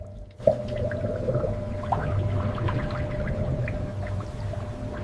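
Strawberries churn in a factory water bath: a steady wash of sloshing, pouring water over a constant low machine hum, close and continuous.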